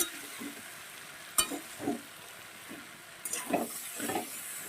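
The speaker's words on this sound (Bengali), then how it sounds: "সবজি কষানো আমার রেডি হয়ে গেছে" Mixed vegetables with prawns sauté in a pan: a soft, continuous sizzle broken by a few louder scrapes and clinks as the spoon stirs.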